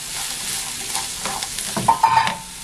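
Chopped large onion frying in about a tablespoon and a half of oil, sizzling steadily up close, with louder scraping stirs toward the end.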